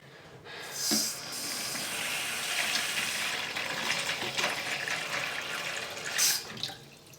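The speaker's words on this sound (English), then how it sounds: "So I'm going to pour that a little bit into our water." Scent booster liquid is poured into a container of water for cleaning artificial flowers, making a soft continuous trickle and splash with a couple of brighter splashes near the start and end, close and fairly quiet.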